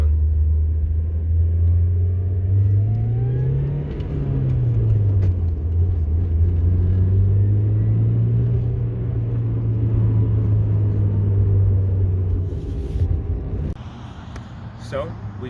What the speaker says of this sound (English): So we just went for a ride in the Mazda 323 GTX from 1988